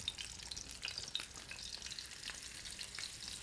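Sole fillet fries in a pan over medium-high heat, a faint, even crackling sizzle with small popping spits throughout, quiet and close.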